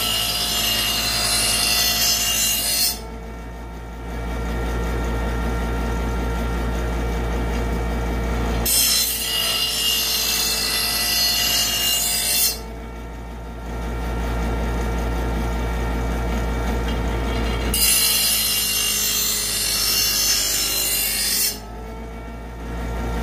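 A hand file scrapes along the cutting edge of a lawn mower blade in three long bursts of steady rasping, each separated by a brief pause, loud and close with no talk over it.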